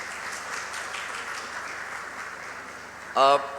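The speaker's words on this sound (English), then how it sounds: "So I must say a round of applause especially for you guys" Applause from an audience of new ACCA members at a ceremony in Lahore, a steady wash of clapping that runs for about three seconds before a voice briefly cuts in near the end.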